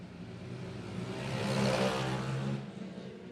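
A race car engine revs hard, rising to a loud peak and then fading as it moves away, with no voices.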